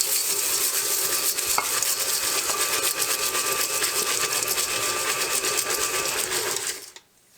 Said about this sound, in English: I'm going to mix that just a little bit.